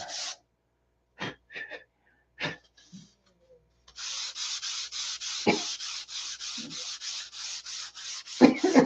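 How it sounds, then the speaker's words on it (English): Small surface imperfections are sanded out with fine sandpaper. A few isolated scratchy strokes with quiet pauses lead into a steady run of rhythmic, close, raspy back-and-forth sanding strokes. "I think what I'll try is I'll sand this down to 600."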